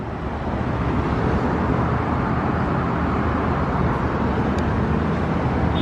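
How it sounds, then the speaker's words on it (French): Kuala Lumpur city traffic heard from high up in a 32nd-floor hotel room, a continuous broadband roar of distant cars and vehicles with no breaks, steady and moderately loud. "vous pouvez voir la circulation d'ailleurs et ça s'arrête jamais même la nuit"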